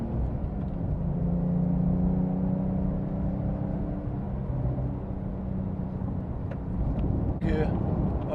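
A Porsche Carrera S in sport mode climbs a canyon road, its engine a steady, close rumble with rising and falling tonal bands and wind noise throughout.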